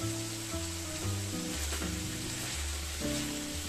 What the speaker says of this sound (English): So we will cook our cuttlefish for about 5 minutes